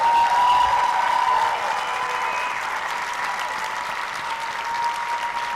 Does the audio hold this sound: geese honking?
no